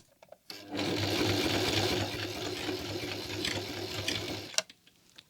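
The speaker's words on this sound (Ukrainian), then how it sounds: "Ми шиємо двойною ниткою." A domestic sewing machine stitches with doubled thread in one steady, close whirring run of about four seconds, starting and stopping abruptly, with no talking.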